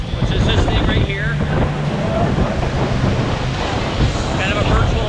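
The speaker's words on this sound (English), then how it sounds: "It's windy back here." Strong wind roars steadily across the microphone on the deck of the cruise ship Voyager of the Seas, with a deep rumble beneath, while a voice talks faintly underneath the gusts.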